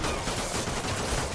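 Shock ammo gunfire from Call of Duty Ghosts rattles in a short, continuous, dense burst, loud and close without any pause.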